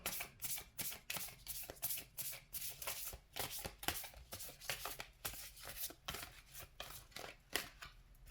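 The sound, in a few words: shuffling tarot cards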